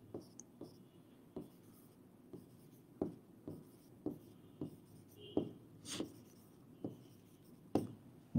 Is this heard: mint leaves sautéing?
no